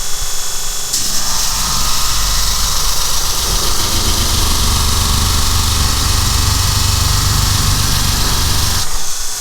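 A tool grinder whines loud and constant, grinding a brazed carbide boring bar for a milling machine, the steady harsh roar starting abruptly and holding for several seconds before cutting off.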